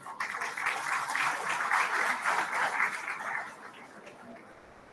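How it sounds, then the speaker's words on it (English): A conference audience at an IEEE sustainable power and energy systems event greets a guest with a warm round of applause, a broad swell of clapping that builds, holds, then fades out toward the end. "May we please welcome him with a warm round of applause"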